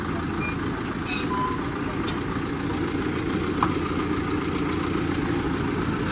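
Tractor pulling out of a field onto a narrow farm track, its engine rumbling steadily at mid distance with a few faint clinks over the drone.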